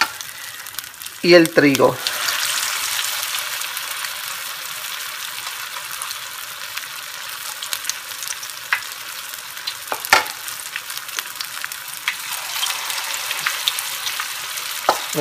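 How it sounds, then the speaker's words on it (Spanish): Meatballs of sprouted chickpeas, lentils and wheat frying in oil, a loud burst of stirring and spattering early on, then a steady crackling sizzle with occasional clinks, while a voice briefly speaks. "A freír nuestras albóndigas de germinado."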